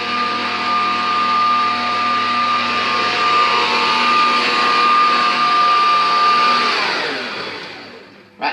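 An electric mixer whirs steadily as it beats egg whites and sugar for a lemon meringue pie, a loud continuous motor drone with a high tonal whine that holds for about seven seconds before winding down and stopping.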